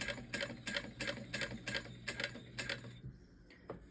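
A hand-crank sewing machine stitching, a close, regular clatter of needle strokes at an even rhythm for about three seconds, then stopping, with faint handling sounds after.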